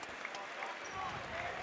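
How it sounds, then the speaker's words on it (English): Basketball fans in a high school gym applauding an injured player, a steady, fairly faint wash of clapping and crowd noise throughout, with voices talking in the clip. "the fans, you know, clap for that"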